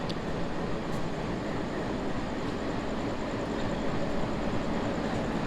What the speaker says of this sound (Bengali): এই যে আমাদের ট্রেন এখন আমরা ট্রেনে উঠবো